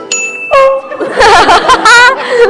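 A stage sound effect rings out loud and close: a bright bell ding, then a series of clanging, horn-like tonal bursts with ringing harmonics, several hits in quick succession.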